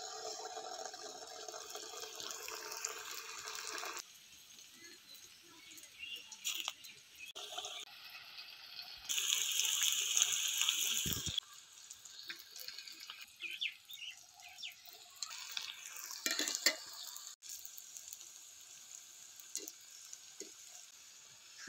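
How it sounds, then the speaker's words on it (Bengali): Balls of potato gulab jamun dough fry in hot oil with an uneven bubbling sizzle that comes and goes. Louder bursts and clatters break in partway through. "এবার আমি সব মিষ্টিগুলো এক এক করে দিয়ে দিচ্ছি তেলের মধ্যে"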